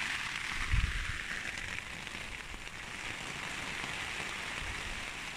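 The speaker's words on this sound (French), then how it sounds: "après ça se calme un petit peu, la pluie devient plus fine" Steady rain falls throughout a spring bivouac during a hike, a dense, even hiss of drops on surfaces with a brief low thump near the start and no voices.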